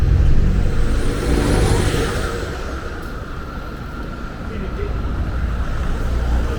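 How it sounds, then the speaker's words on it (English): A steady roar of town street traffic in Shrewsbury, UK, with a vehicle passing close by and a constant low rumble of engines and tires, with some talk mixed in. "Only downer for me is the traffic."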